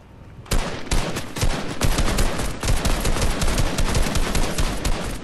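Dense, rapid gunfire fills a battle royale video game, with fast automatic bursts firing almost continuously, loud and close, with no talking.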